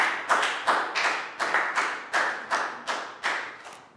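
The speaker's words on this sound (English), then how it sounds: "So let's all have a round of applause," A class of young students claps together in a round of applause in a primary school English lesson, a scattered burst of hand claps with uneven rhythmic peaks, close and fairly loud, with no talking over it.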